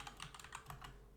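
Rapid keystrokes on a computer keyboard as a command is typed in, an uneven run of close, crisp clicks with no voices.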